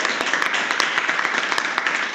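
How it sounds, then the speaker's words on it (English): An audience at a retreat gives a round of applause. The clapping is quiet and fairly sparse, a steady patter of individual claps running through the whole short stretch with no talk over it. "One more round of applause for Adam Tiegs."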